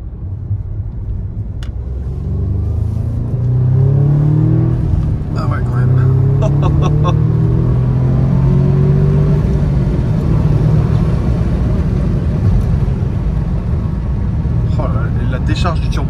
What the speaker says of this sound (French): décharge du turbo, t'entends le petit tssiou, comme ça, c'est vraiment beau